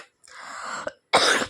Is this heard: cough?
yes